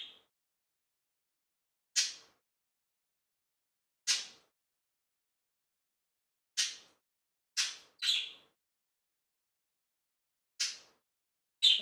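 Bird calls in the NieR video game: short, sharp chirps spaced irregularly through silence, several standing alone and a couple in quick pairs, crisp and moderately loud with no talking over them.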